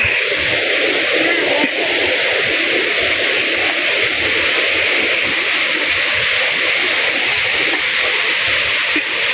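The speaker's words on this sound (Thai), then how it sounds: "เสียงน้ำตก" Tad Yeuang waterfall in Paksong, Laos, in a forest setting during the rainy season, a loud, steady broadband rush of falling water that holds unbroken throughout.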